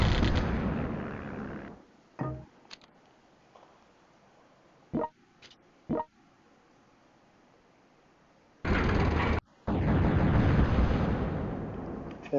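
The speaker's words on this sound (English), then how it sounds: "I should use my cruiser to destroy it." Naval cruiser shells striking a fort in World Conqueror 4: a loud blast, a few short sharp pops, then two heavy explosive bursts near the end, separated by near-silence.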